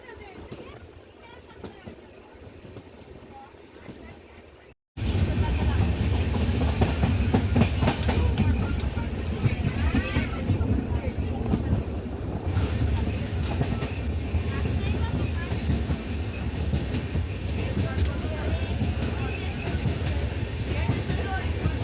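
Mysuru Express train running through Sasthamkotta station without stopping, a loud continuous rumble and clatter of wheels on rails that bursts in after a few quieter seconds and carries on, with a voice talking over it.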